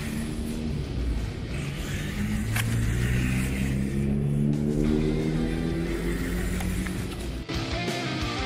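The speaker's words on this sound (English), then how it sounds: "Normally, an RC car at this scale would suffer on a grass surface, but look at this." A WPL WP-14 1/16-scale RC desert patrol vehicle drives across grass, its electric motor giving a steady, loud whine that rises and falls with throttle over a continuous rumble for the whole stretch.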